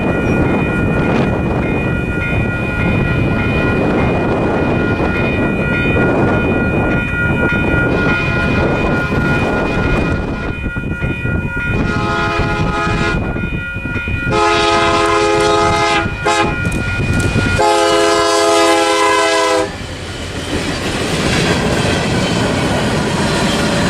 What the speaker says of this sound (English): I intercepted UP 4932 East at the 17th Road grade crossing